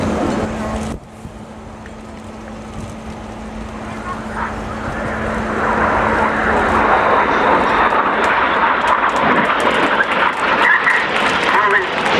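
Display jets roar overhead in close inverted formation at an air show, a steady broad engine rush that swells louder and nearer over the clip, with commentary talk running beneath it.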